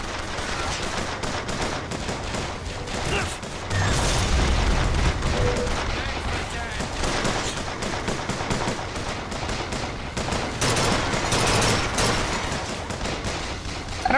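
Sustained bursts of automatic gunfire and heavy booms in BioShock Infinite combat, with rapid fusillades running almost the whole time and louder blasts near the start and end, mixed with game voices.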